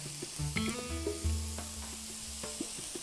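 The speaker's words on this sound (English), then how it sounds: "Then we'll add in our onion." Onion added to a pan of cooking green and red peppers, a close, steady frying sizzle with a few clacks of a utensil and faint tonal kitchen hums, no speech.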